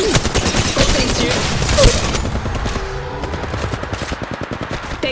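Rapid automatic gunfire in an Apex Legends firefight, dense bursts of close shots that continue as a steady stuttering rattle, with a louder boom near the middle.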